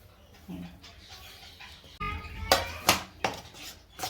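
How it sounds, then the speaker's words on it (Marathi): Sesame seeds and peanuts are stirred into hot melted jaggery in a pan, with a quiet scraping and then a few sharp metallic clinks and knocks of the utensil against the pan. "हे गरम आहे तोपर्यंत मिक्स करून घेऊया."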